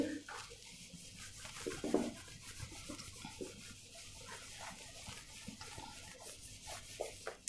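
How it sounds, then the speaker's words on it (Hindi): A duster or cloth rubs steps off a classroom board during a maths lesson, a faint, repeated scrubbing swish in short irregular strokes. "मेरे को यहाँ से कुछ स्टेप्स रब करनी पड़ेंगी"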